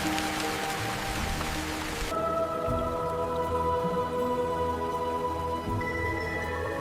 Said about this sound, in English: while rain splashes on her extended foot